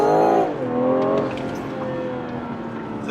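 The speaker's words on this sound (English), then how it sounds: "I'm gonna try this launch control out for you" A 2021 BMW M340i with all-wheel drive launches from a standstill in Sport Plus mode using launch control, its engine note rising in quick gear-by-gear sweeps, heard from inside the car as it pulls away.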